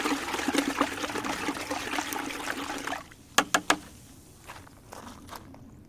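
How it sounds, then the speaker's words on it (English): Fertilizer solution poured from one bucket into another makes a steady watery trickle for about three seconds, followed by a few short splashes and drips as the buckets are switched. "I just pour them together, and then I just start switching buckets"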